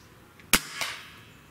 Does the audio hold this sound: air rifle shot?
yes